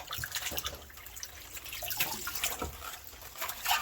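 Tap water runs steadily into a kitchen sink while mustard greens are rinsed by hand, a continuous close splashing with small irregular sloshes and drips and no talking.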